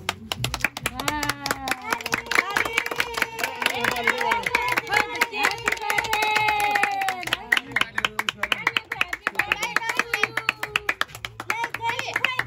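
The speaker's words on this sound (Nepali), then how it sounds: "ल ताली" People clap together at a child's birthday party, a lively run of hand claps under singing and chatter, breaking into distinct separate claps toward the end.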